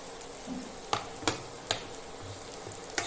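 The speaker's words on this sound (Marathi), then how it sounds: "काजू जराशे परतून घ्या" Cashews sauté in hot oil for a sprouted moth bean khichdi, making a soft continuous sizzle with a few crisp taps and scrapes from a stirring spoon, heard up close without speech.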